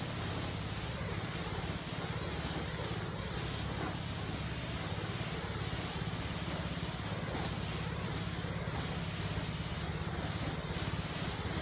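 An aerosol spray hisses continuously and loudly, a steady broadband rush under a low engine-like rumble, with no talk.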